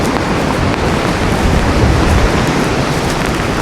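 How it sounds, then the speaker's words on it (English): Colossal gale of Storm Claudia sweeping through the UK, a steady loud roar of wind with no letup and no voices. "Oh, and you hear the wind."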